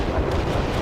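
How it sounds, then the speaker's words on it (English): A fuel air bomb in the real-time strategy game World in Conflict explodes as a brief, dense, deep rumbling roar, loud and sustained for under a second with no clear onset. "That field air bomb is just so good."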